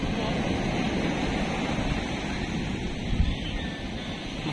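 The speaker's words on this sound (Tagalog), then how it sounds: "Laki na alon, no?" Big ocean waves break on San Narciso beach in Zambales, a steady roaring wash of surf with wind buffeting the microphone, loud and continuous with no voices.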